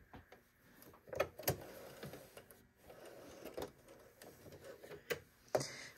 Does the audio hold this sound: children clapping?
no